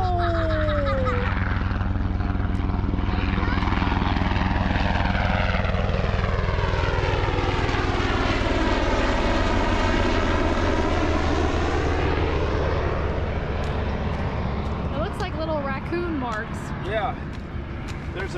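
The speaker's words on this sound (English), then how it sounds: "Look at this helicopter" A military helicopter passes overhead: a loud, heavy engine roar and rotor drone swells as it approaches, then fades away, with brief voices near the end.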